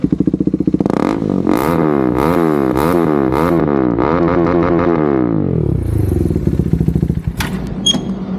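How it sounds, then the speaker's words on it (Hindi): A KTM RC 390 motorcycle exhaust revs loudly up close, several sharp throttle blips rising and falling in pitch, then settling to a rough idle with a few clattering knocks at the end. "और मैं ये RC 390 का एग्जॉस्ट सुना देता हूँ।"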